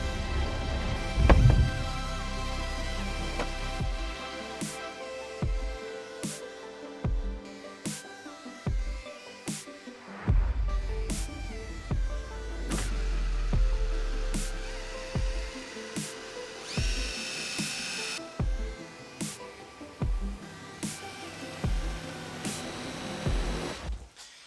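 Pocket hole screws are driven into plywood backing on a wall: repeated bursts of a power drill whirring, separated by sharp knocks and thunks, close and moderately loud, with no talk.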